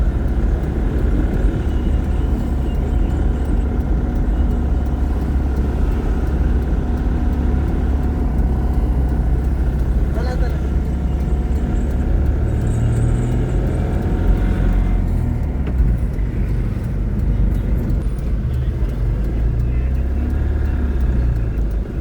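A loaded transport truck on the road, heard from inside as a constant loud low engine and road rumble that drones without a break.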